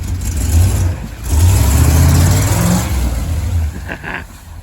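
Engine of a Chevrolet Suburban truck left abandoned for 13 years, running with a low idle and then revving, a deep, loud, close rumble that eases off near the end.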